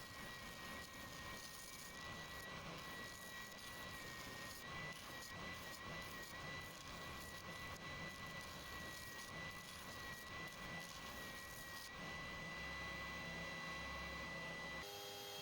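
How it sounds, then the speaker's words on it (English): A spindle sander grinds a wooden crankbait lure with a steady, dense whirring hum and a constant high whine, fairly quiet, before the motor cuts off near the end. "I'll sand down to the lines with my spindle sander"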